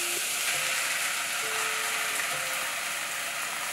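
Marinated dried prawns hit a hot pot and sizzle loudly, a steady broadband frying hiss filling the whole moment close up, with no talking.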